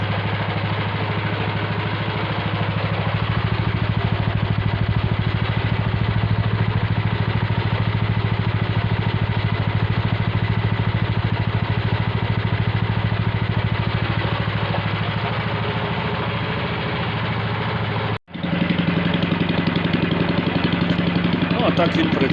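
Mini tractor or walk-behind tractor engine fitted with a homemade muffler, running steadily and loud up close with an even low putter, briefly cutting out near the end before carrying on.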